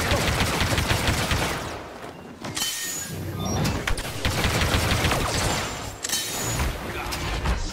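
Rapid bursts of gunfire in the video game Star Wars Battlefront 2 crackle in quick succession, with mechanical clanks and brief pauses between volleys, voices occasionally mixed in.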